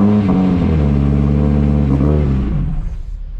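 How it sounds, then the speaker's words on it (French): A Renault Clio rally car's engine fires up close by and revs hard, a loud throaty roar that rises and falls before settling toward idle. "je vais la démarrer pour le fun."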